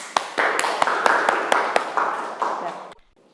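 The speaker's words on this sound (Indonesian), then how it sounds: "Ya, tepuk tangan." A classroom of students gives a short burst of scattered hand claps, loud and close, with sharp individual claps over a clapping wash that stops abruptly near the end.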